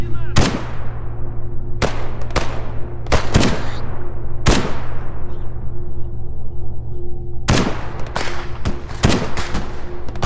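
Enemy gunfire in the game S.T.A.L.K.E.R. G.A.M.M.A., loud sharp shots in irregular bursts with single cracks and quick doubles, echoing tails over a steady low hum.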